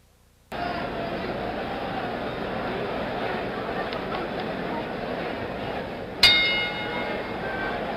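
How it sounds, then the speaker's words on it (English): A single boxing ring bell rings for round 4 of the George Foreman vs Jimmy Young fight, one sharp clang with a ringing decay that cuts through a steady, loud arena crowd roar. "The bell for round 4."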